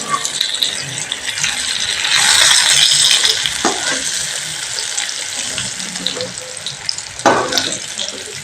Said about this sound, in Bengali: বেগুনটাকে আমি ভালো করে ভেজে নিই